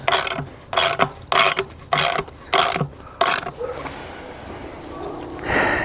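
A wrench ratchets in quick bursts while a fence bolt with flat washers is tightened, about seven loud clicking pulls in a row, then a creak and quieter handling.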